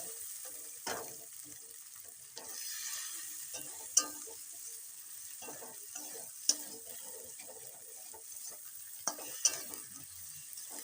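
Spices with chilli powder and sugar fry in oil in a pan for yogurt chicken, a soft steady sizzle broken by occasional sharp ticks and scrapes of a stirring spoon, quiet and close.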